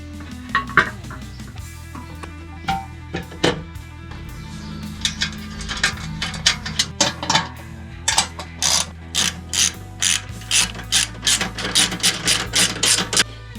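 A ratchet clicks in rapid, uneven bursts while bolts are tightened on the rear fender of a Triumph Tigress motorcycle, with close metallic knocks between runs.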